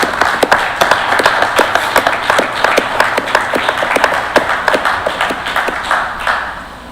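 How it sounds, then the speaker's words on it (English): A small group claps for several seconds at a board of canvassers meeting, the sharp irregular claps fading toward the end. "they truly deserve a round of applause"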